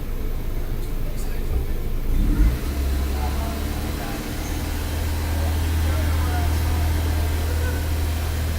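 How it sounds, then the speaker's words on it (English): A car engine revs up as the gas is hit while the engine runs slightly rich, a steady low drone that swells near the two-second mark and holds, close and fairly loud, with a voice talking over it. "if I hit the gas"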